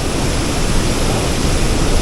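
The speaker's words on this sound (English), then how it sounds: "I would recommend visiting this waterfall because it's pretty amazing" Roaring waterfall at Baños de Agua Santa in Ecuador, a loud, steady, broadband rush of falling water heard up close and unbroken throughout, with no voices.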